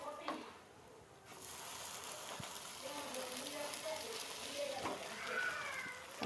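An egg dosa fries in oil on a hot pan, giving a steady soft sizzle with faint crackles throughout, fairly quiet and close.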